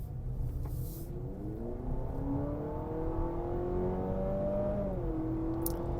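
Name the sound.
piped-in engine sound of hybrid SUV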